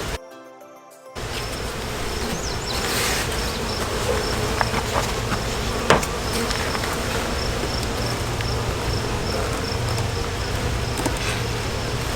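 Honeybees swarm around an open hive during queen marking, a dense continuous buzz filling the air close by, steady throughout with occasional faint knocks and handling sounds.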